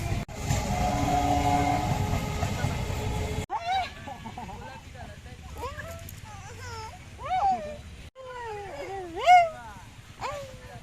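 A train passes close by in the evening, its loud steady rumble and rattle filling the first few seconds before cutting off, followed by people talking nearby.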